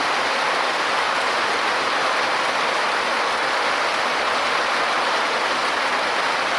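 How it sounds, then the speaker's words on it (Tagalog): Heavy rain pours down in a dense, unbroken hiss, loud and close, with no gaps or voices. "Lakas ng patak ng ulan dito."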